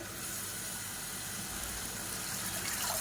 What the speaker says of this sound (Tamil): இப்போ மிக்ஸி அலசிட்டு அந்த தண்ணியை சேர்த்துக்கலாம்.